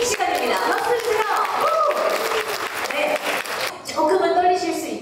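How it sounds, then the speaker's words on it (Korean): Audience applause greets creators being introduced on stage at an event, a loud, sustained clapping with crowd murmur, mixed with speech and a host's voice through much of it. "박수 주세요."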